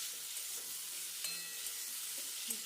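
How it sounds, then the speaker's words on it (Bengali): Chopped tomato sizzles softly in a pan for a vegetarian potato curry as a utensil stirs it, with a low, even frying hiss and a few faint scraping touches. "টমেটোটা দিয়ে আবার কিছুক্ষণ আমি নাড়াবো এটাকে"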